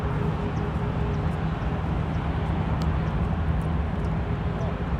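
A Delta airliner departing Los Angeles International Airport, a broad steady jet roar heard from a distance, continuous and fairly loud throughout, with a voice talking over it.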